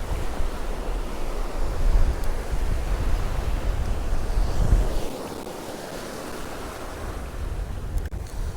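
Waves wash and rumble on Cromer Beach with gusty wind noise, the surging sound easing off partway through before building again.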